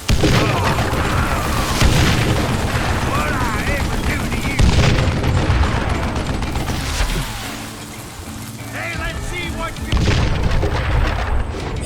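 Gunfire from the Western shooter Call of Juarez: Gunslinger: loud, dense bursts of shots and booming blasts running nearly nonstop, layered over music and shouting voices.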